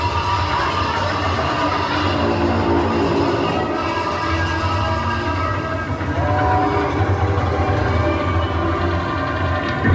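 Expedition Everest roller coaster ride at Disney's Animal Kingdom, with loud continuous rumbling and clattering of the train on its track that swells and eases across the ride, no talk.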